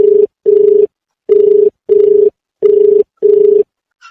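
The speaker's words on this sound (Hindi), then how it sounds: "अभी फोन कर रहा हूँ सर" A telephone call rings out in six evenly spaced, steady tone bursts with short silent gaps between them. The tones are loud and clear, with no voices over them.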